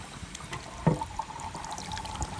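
Water flushed through a rusty gas tank during cleaning with muriatic acid, pouring and trickling steadily with a brief louder gush partway through, close by and alone.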